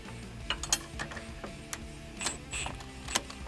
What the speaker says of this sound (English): grab your wrench